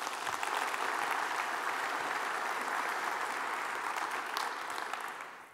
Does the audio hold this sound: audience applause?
yes